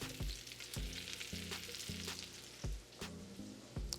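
Mushrooms and onions sizzle steadily in a hot pan, a bright continuous crackle broken by regular soft knocks of stirring.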